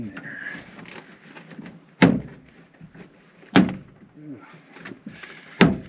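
A Volkswagen Vanagon door opens with three sharp, loud clunks and latch knocks spaced a second or two apart, close by, while a voice talks quietly in between.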